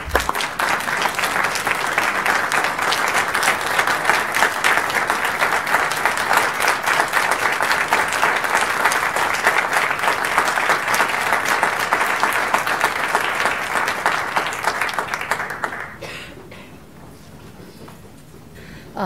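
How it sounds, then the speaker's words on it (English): Sustained audience applause at a school board of education meeting, steady and dense for about fifteen seconds before fading to quiet room noise. "Yes, I think we should do a round of applause."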